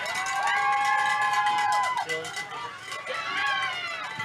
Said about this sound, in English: We've got some fans cheering over at Reunion Village.